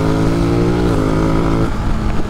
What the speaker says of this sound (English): why this bike so quick?